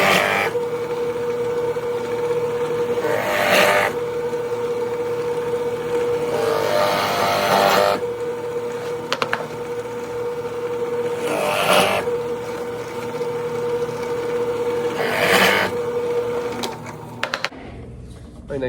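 A drill bores shallow candle holes in scrap wood, several short bursts of higher-pitched drilling repeating every few seconds over a steady background hum.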